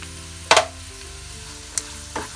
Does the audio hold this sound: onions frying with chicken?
yes